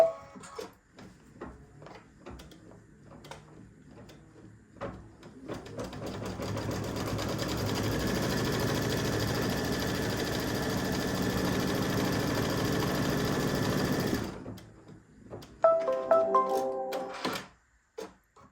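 An embroidery machine stitches a placement line for tree fabric in an in-the-hoop mug rug project, a steady rapid mechanical whir lasting around ten seconds, with softer clicks before it and a brief clatter after.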